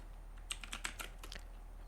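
Quick, irregular keystrokes on a computer keyboard while code is being written, a short burst of close, crisp clicks with no talking.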